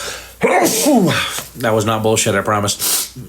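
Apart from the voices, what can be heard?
sneeze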